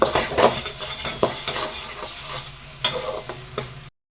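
Marinated chicken with ground coriander, cumin and chicken curry masala is stirred and fried in a pan, with a continuous close sizzle broken by clattering metal spoon strikes and scrapes against the pan.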